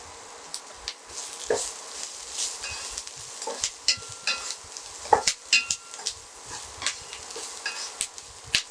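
Curry leaves sizzling in hot oil for a drumstick sambar, giving a close crackling sizzle with irregular pops and spatters plus occasional stirring clinks.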